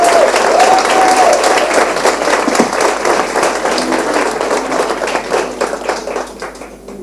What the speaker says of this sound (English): Thank you for that warm round of applause that I just received.